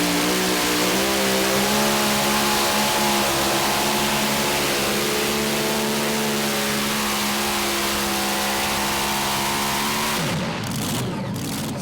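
A mini rod pulling tractor with a Noonan engine roaring at high revs, a loud, sustained harmonic drone that climbs slightly in pitch and then drops away abruptly near the end, close and dominant without talk.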